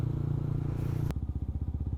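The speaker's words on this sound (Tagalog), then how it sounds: "Medyo maingay ang ating motor mga friends." A loud motorcycle engine on a pre-dawn ride through Manila streets holds a steady drone, then drops to a rough, pulsing idle for the rest of the moment.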